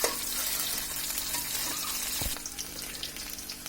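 Steady, soft frying sizzle of onions in a pan, a continuous crackling hiss with a brief low thump partway through.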